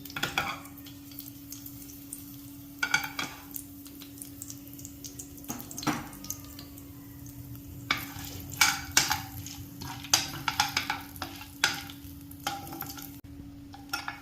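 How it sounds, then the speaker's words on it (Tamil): Bay leaf, cinnamon, cloves and cardamom are tempered in hot oil for paneer gravy, giving a low, steady sizzle with irregular clusters of crackles, pops and stirring clatter against the pan, close and with no voices. "பட்டை, கிராம்பு, ஏலக்காய் எல்லாம் போட்டு தாளிக்கிறோம்."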